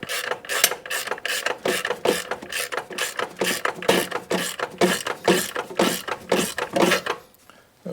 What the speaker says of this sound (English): install this using a tool that I know I'm going to have on the trail, and that's just a 3/8 ratchet and 19mm socket